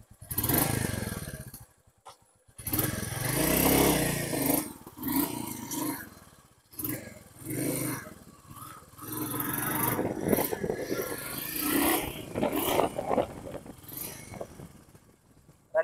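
A 2024 Royal Enfield Meteor 350 motorcycle riding a short round nearby, its single-cylinder engine rising and falling in loud roaring passes with brief quieter dips as it circles close by.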